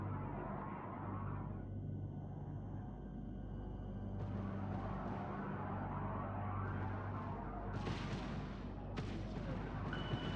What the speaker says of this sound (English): We're hit. Kinetic fire.